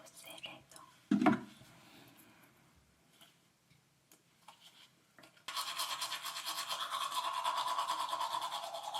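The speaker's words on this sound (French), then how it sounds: "Je vais brosser les dents." Teeth being brushed with a toothbrush at night, the quick close scrubbing strokes starting partway through and continuing steadily, after a quieter stretch of small rustles and a brief louder thump.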